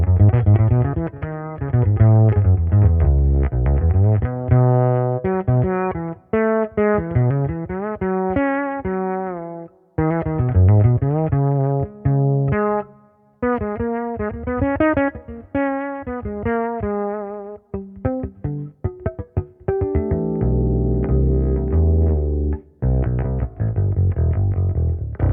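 A six-string Infinity Ghost fretless bass runs through effects, playing a sustained melodic solo line with gliding slides and chords, loud and continuous with brief pauses and a deeper rumbling passage near the end.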